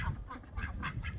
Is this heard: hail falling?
no